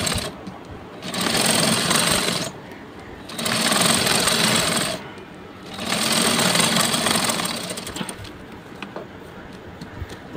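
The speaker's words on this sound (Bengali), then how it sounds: "এই পাশে আমি আরো সেলাই করে দেব।" Sewing machine stitching a salwar, running in three loud sustained bursts of rapid mechanical whirring separated by brief pauses, then quieter light clicking at the end.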